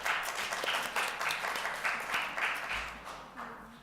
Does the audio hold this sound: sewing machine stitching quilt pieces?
no